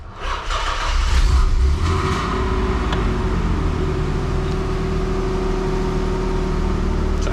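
A Nissan 300ZX convertible project car's engine runs steadily at idle after a brief rise at the start, a close, continuous rumble with no talking.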